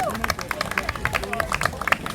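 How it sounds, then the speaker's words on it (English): A crowd at a protest march rally breaks into applause for an organiser and her team, with irregular bursts of clapping mixed with cheering and murmuring voices throughout. "give a rousing round of applause to Marcia Weeks and her team for another amazing march"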